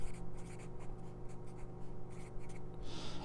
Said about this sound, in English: I'll write that in black here because it's important.